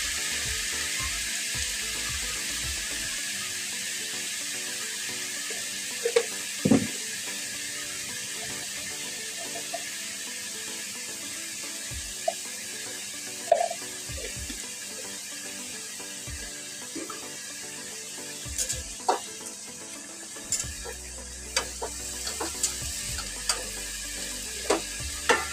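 Pumpkin shoots and sponge gourd cooked in a pan with green chilli, onion, turmeric and salt sizzle in a steady hiss, with occasional stirring scrapes and knocks close by.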